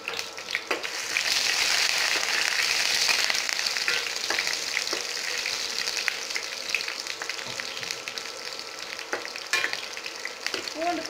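Garlic, curry leaves and cumin frying in hot oil for sundakkai rasam give a steady, close, bright sizzle with occasional stirring clicks, continuous throughout with no speech.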